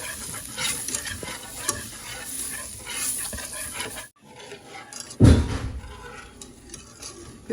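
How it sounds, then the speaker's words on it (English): Flour is whisked into hot oil in a pan for a pork-chop gravy roux: busy, close stirring and sizzling, a brief pause, then a sharp metallic knock against the pan before the whisking resumes. "I'm going to whisk it, keep whisking it"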